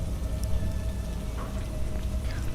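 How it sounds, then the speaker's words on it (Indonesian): Raindrops pattering on a raincoat during a dark climb on Mount Slamet, a dense, steady rain hiss with faint drips, no voices. "Suara rintik hujan di atas jas hujanku terdengar seperti bisikan ribuan mulut kecil"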